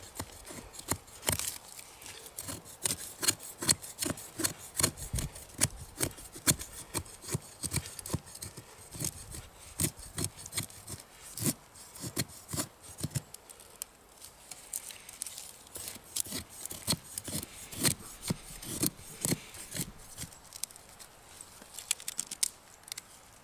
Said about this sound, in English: I start by making some shavings